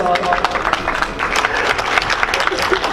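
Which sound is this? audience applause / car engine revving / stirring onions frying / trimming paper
audience applause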